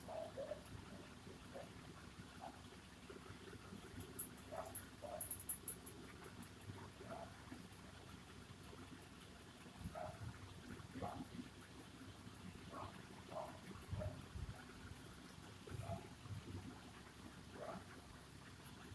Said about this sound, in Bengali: দেখো চিনি শিরাটা কিন্তু ভালোভাবে ফুটে গেছে আর অনেকটা গাঢ় হয়ে গেছে